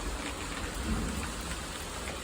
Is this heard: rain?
yes